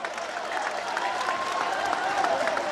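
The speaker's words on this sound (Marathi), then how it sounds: "एवढ्या टाळ्या जोरदार होऊ द्या" A crowd at a Dahi Handi festival in Pirkon village claps continuously, a dense, steady patter of many hands with a voice mixed in over the noise.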